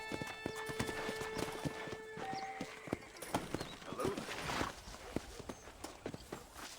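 Horse hooves clip-clop in a steady rhythm in the video game Red Dead Redemption, with a brief whinny partway through and someone talking over the hoofbeats.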